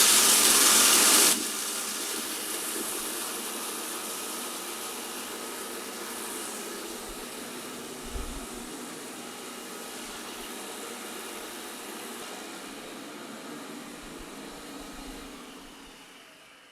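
A Cooking Pal Multo kitchen machine grinds flour with a loud, steady motor whir. An especially intense first second gives way to an even, continuous grinding roar.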